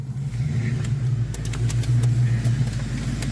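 A 5.0 car engine runs close by with a steady deep throb and light revving, strong low-end torque-heavy tone and a few sharp clicks over it.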